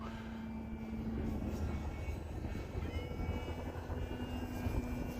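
A Flex Innovations Mamba 60E electric RC model airplane flies overhead in wind, its motor a faint, steady whining drone that rises and falls slightly as it passes at a distance.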